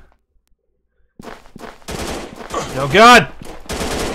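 Rapid bursts of gunfire from the video game Special Counter Force-Attack crackle loudly in quick clusters after a short silence, with a brief startled exclamation from a voice partway through.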